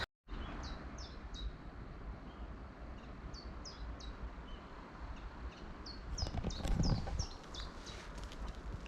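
Birds chirping in repeated short calls over a steady background of flowing river water in a quiet spot at the foothills, with a brief louder rustle near the end.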